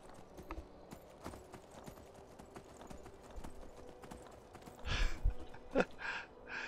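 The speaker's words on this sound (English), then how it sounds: "there's a riderless horse running past us there" Hooves of a riderless horse clatter past in Skyrim, a quiet run of clip-clop beats under game ambience that grows louder and busier toward the end, with no talk.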